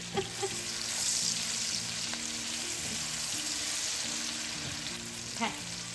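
Onions frying in a pan until browned, for a spicy Bengali eggplant dish, give a steady close sizzle with a few clinks and stirring scrapes throughout, no talking.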